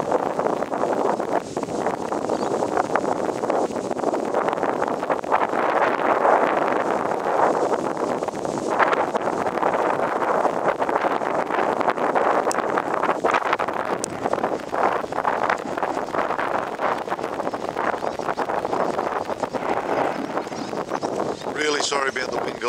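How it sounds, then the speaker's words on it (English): Wind buffeting a microphone outdoors during an afternoon storm in Gympie, Queensland, a steady loud roar of gusts that runs without a break for the whole clip. "Sorry about the wind"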